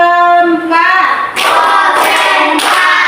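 Students in a classroom perform a spirit cheer: one voice leads a sung chant, then the group answers with rhythmic bursts of clapping and shouting in a repeating pattern.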